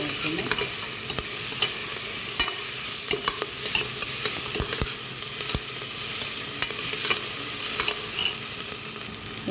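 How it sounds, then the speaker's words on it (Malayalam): Curry leaves and red chilies sizzle loudly in hot oil for a beef curry, with continuous crackling and frequent scraping clicks from a stirring spoon throughout. "ഞാൻ വേപ്പിലിടുന്നു ചുമന്ന മുളക് ഇതിലേക്ക് ഇടുന്നു"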